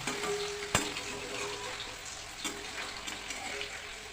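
Paneer lightly frying in a home kitchen pan, an even crackling sizzle with a sharp utensil knock early on and a few softer stirring taps later.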